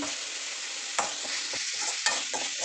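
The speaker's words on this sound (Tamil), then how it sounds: "தக்காளி வந்து நல்லா வதங்கணும்" Tomatoes frying in a pan for a coconut-ground mutton curry, a steady sizzle with sharp stirring scrapes and clinks of a spoon, close and continuous with no talk.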